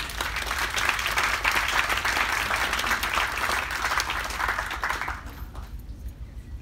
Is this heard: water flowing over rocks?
no